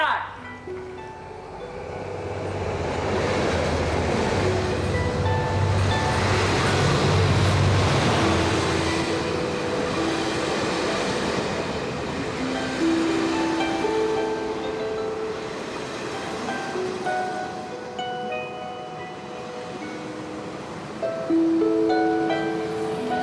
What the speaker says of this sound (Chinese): 看火车要进站啦，现场 stand by。